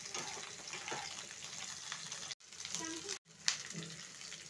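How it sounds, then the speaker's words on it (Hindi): Cauliflower sizzles and crackles in a pan for a mixed vegetable dish, a soft continuous frying hiss with a couple of brief stirring breaks and gentle bubbling. "जब ये गोभी अच्छे से फ्राई हो जाए तो इसी में आलू डाल देंगे"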